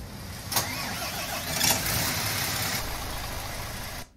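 A MAN bus engine in a video game cranks and starts, then runs in a steady rumbling idle heard from outside for a few seconds before shutting off.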